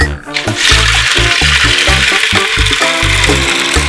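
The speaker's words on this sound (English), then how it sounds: "Then we need to add water into the bowl." Water poured into a bowl already holding ice, a steady bright rush that runs through the whole moment beneath loud rhythmic background music.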